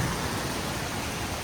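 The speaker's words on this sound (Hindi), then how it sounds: "अचानक से बारिश हुई है" Sudden rain falls outdoors in cool, cloudy weather, a dense, even hiss of drops holding steady throughout with no voices over it.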